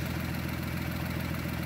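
An aircraft propeller engine idles at warm-up throttle, producing a steady, even, low mechanical drone that holds constant without change.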